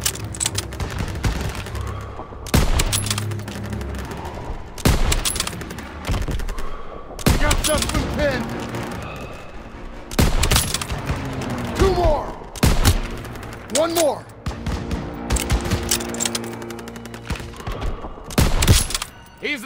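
Repeated bursts of rapid gunfire and heavy shots from the World War II shooter Call of Duty WW2, loud and close, punctuated by booms, with shouted voices in between.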